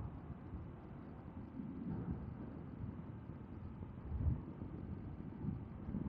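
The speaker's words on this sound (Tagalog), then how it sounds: "Malakas yung hangin dito," Strong wind buffets the microphone at a wide, open flood catch basin in General Trias, Cavite. A steady, loud low rumble with gusty swells runs throughout, and no one speaks.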